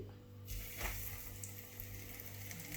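Flour-coated Tunisian stuffed vegetables, such as peppers and eggplant, sizzling as they go into hot frying oil, a steady close crackle with a brief louder burst early on, heard alone.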